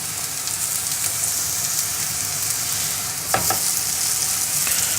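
Chickpea falafel patties fry in a pan with a steady, close hiss of sizzling oil, and a brief crackle partway through.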